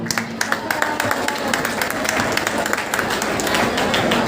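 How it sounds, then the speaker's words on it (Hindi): A gathering applauds at a talk about freedom fighters from Gopalganj, with close, brisk claps rising into a dense, continuous patter that lasts several seconds. "ऐसे वीर सपूत के लिए ताली बजाया।"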